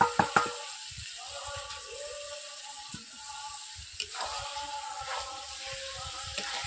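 Boiled jackfruit frying and being stirred into oil-rich spice masala in a pan, a steady close sizzle with spatula scrapes and clinks, sharp knocks at the start and no talking.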